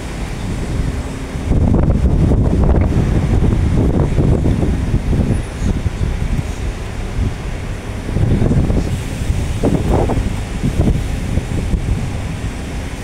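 Cold wind blows across an outdoor terminal in Hong Kong, a steady roaring rush of microphone buffeting with louder gusts swelling and easing throughout.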